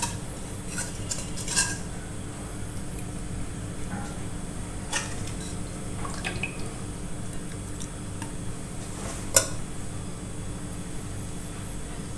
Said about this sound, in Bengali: আমি এখন তরকারিটা বেড়ে নিচ্ছি।